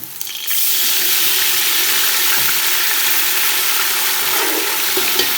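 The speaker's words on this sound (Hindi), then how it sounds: "अब हम इसमें थोड़ा सा डालते हैं पानी" Water hits light-browned onions in a hot pan for kadhi pakora, a loud steady hissing sizzle that starts at once and holds without a break.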